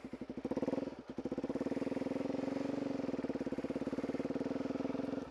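Motorcycle engine chugging while riding through mud: a close, loud, steady pulsing putter with rapid regular firing beats, briefly surging at the start, then running evenly.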